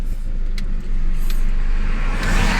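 A used Toyota Vigo pickup truck's engine pulls steadily under acceleration from inside the cab, a continuous loud low drone with road rumble and no talk over it.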